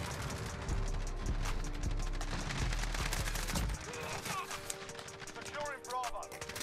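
MP5 submachine gun firing in the Modern Warfare video game on the Shipment map, a dense, loud chaotic stream of rapid automatic gunfire that thins out after a few seconds, with game voices and sounds under it.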